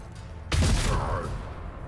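A single loud gunshot from the turn-based video game Warhammer 40,000: Rogue Trader bursts in with a heavy low boom, followed by a ringing, slowly fading tail.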